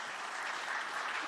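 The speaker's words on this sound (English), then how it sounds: "Just a round of applause for all the heads of state that are here" Steady applause from a conference audience honoring heads of state at the Africa CEO Forum in Kigali, a dense, even wash of clapping throughout the short moment with no voices over it.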